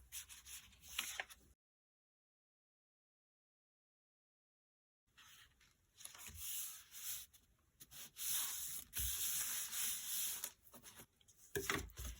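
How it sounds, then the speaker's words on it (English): A handmade paper folio has its edge trimmed: soft, scratchy rubbing and cutting strokes sound up close, then break off into several seconds of silence before resuming more loudly and densely. "I can trim this edge off."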